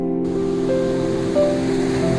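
Sea waves wash onto Puri beach in Odisha at night, a steady broad surf roar with a low hum running beneath it, constant and fairly loud.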